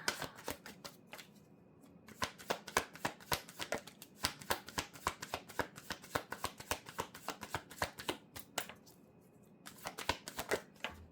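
Playing cards being shuffled up close in quick riffling bursts, a steady run of sharp flicks and slaps with brief pauses, quiet and alone without talk.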